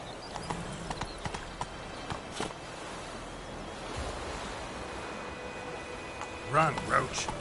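Roach, a video game horse, galloping with rapid hoof beats over a steady wash of wind and surf, ending in a louder burst of movement near the close.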